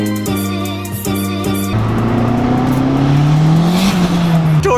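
Honda Civic EG under boost pulls hard from a revving idle, its engine note climbing steadily in pitch as it accelerates, loud and close with a harsh, raspy drone throughout.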